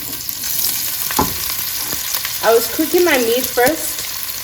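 Oxtail meat browns in a hot pot with a crackling sizzle, broken by sharp spatters and pops and a few brief tonal squeaks as pieces shift against the metal.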